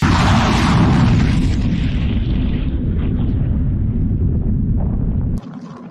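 A loud, sustained roaring blast of an Iranian IRGC missile launch against Israel, dense rumble filling the scene for several seconds before cutting off abruptly.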